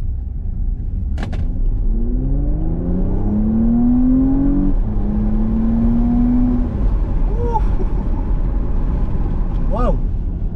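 A 2020 Porsche Cayenne hybrid accelerates in Sport Plus mode with electric motor and petrol engine working together, a loud steady engine drone rising in pitch through the gears under constant road rumble.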